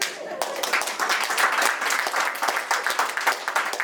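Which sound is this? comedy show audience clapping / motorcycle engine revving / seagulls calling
comedy show audience clapping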